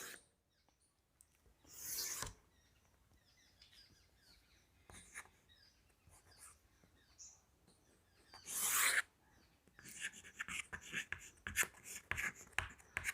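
Chalk or marker scratching across a classroom board while a Hindi heading is written, faint intermittent strokes with a few louder scraping bursts in a quiet room, no talking.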